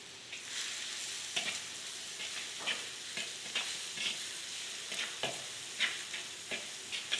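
Finely chopped onions frying in hot oil with mustard seeds for a wild-greens vegetable dish, a steady close sizzle with repeated soft stirring scrapes and taps every half second or so, no voices.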